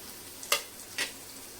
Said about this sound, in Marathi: कांदा छान लालसर करून घ्यायचा आहे आपल्याला